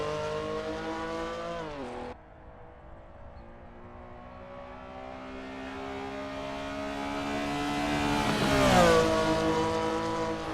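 Porsche 911 Carrera RSR 3.0 racing engine in the Assetto Corsa game, revving loudly, dropping abruptly as a gear shift or lift cuts in, then building again in a long rising pull with a sharp high peak near the end.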